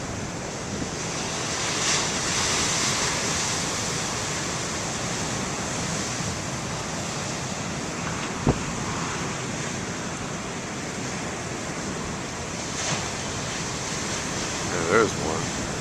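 Ocean surf after a nor'easter storm and a windy day, a continuous broad roar of big waves breaking on the shore, steady and loud throughout, with wind rumble on the microphone and a few faint knocks.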